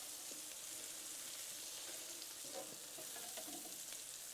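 Butter sizzles on a Blackstone griddle in a steady, close crackling hiss with small spits and pops, and no one talks.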